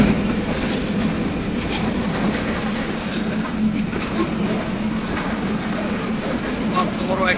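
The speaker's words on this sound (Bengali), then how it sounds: "মালবাহী ট্রেন, অর্থাৎ তেল নিয়ে গিয়েছিল।" An oil-carrying freight train rolls past at close range, a steady dense rumble with rhythmic clattering of wagon wheels over rail joints and occasional squeals, continuous throughout, with a voice faintly beneath.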